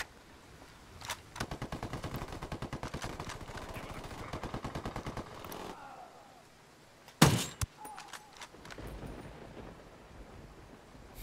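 Artillery strike in the shooter Ghost Recon Wildlands: a long rapid string of gunfire-like bursts, then a brief quieter gap before one sharp loud blast, with wind-like noise trailing behind.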